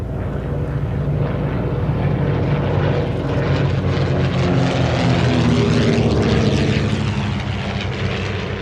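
A vintage Waco biplane flies past at the Shuttleworth air show, its propeller engine droning loudly and steadily, the pitch shifting as it passes close by.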